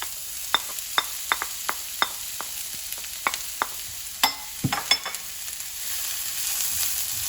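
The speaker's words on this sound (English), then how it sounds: "And then I'm gonna add the Chinese sausage and the onions." Chinese sausage and onions go into hot avocado oil in a pan, setting off a steady sizzle with a run of sharp clicks and pops and a few louder clattering knocks near the close.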